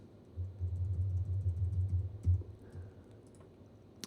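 Shift and arrow keys pressed on a computer keyboard, a run of quiet, soft repeated taps and clicks with a low hum underneath, close and faint, without talking.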